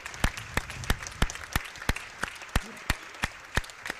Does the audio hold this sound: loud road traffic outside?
no